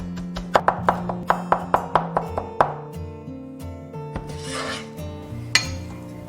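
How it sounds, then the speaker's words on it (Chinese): A knife mincing crushed garlic on a cutting board, a quick run of about a dozen sharp, close chops at a steady rhythm, then a few scattered cuts and a brief scraping sound. "然后切成蒜末"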